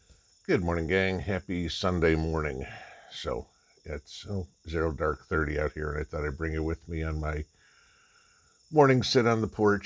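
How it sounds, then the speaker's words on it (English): Crickets chirp outdoors from a porch before dawn as a thin, steady high trill. Someone talks over them most of the time, and they carry on alone in the pauses. "the crickets and everything"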